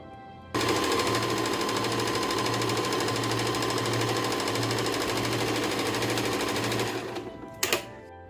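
An electric sewing machine, freshly oiled and repaired, runs smoothly and steadily at close range for about six seconds with an even mechanical hum and stitching rhythm, then slows and stops with a couple of final clicks.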